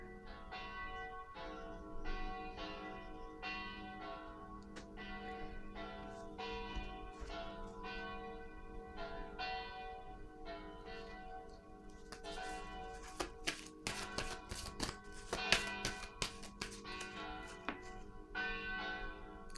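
Church bells toll steadily in a long, even sequence of resonant strokes, joined in the second half by quick sharp clicks and ticks close by.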